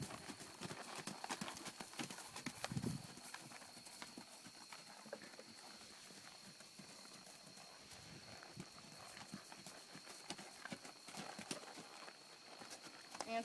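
A horse trotting during a beginner riding lesson, its hooves clip-clopping in a steady rhythm at moderate distance over a continuous outdoor background, with faint voices at times.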